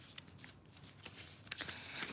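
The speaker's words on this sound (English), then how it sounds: "I don't know if I'm shuffling hard." Playing cards shuffled for a reading, soft quick riffles and flicks with a sharp snap near the end, quiet and close with no voice over them.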